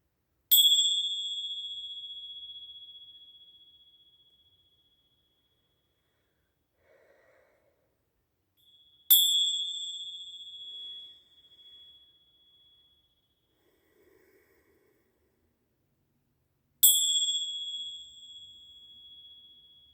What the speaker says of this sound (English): I'm going to cleanse the energy with these bells. I'm going to ring them 3 times now.